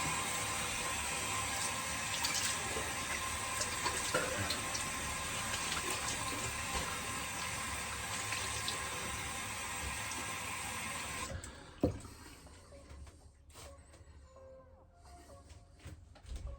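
Tap water runs steadily into a sink while a Gillette Superspeed Flare Tip razor is rinsed, a loud continuous hiss that stops abruptly, followed by quieter clicks and small knocks.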